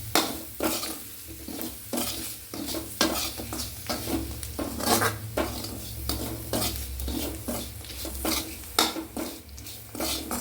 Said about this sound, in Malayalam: അരിഞ്ഞു വെച്ച മറ്റേ മൈസൂർ ചീര ഉണ്ടല്ലോ, വേലിച്ചീര എന്ന് പറയുന്നത്, അതിട്ട് കൊടുക്കാം. നന്നായി ഇളക്കി കൊടുക്കാം.